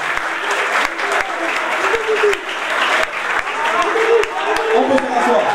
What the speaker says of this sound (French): Applaudissements pour le garçon